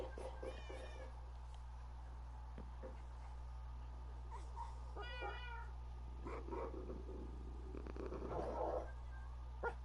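A cat in Minecraft gives a few clear, close meows spaced through a quiet stretch of game ambience, with a low steady hum underneath and some soft shuffling sounds.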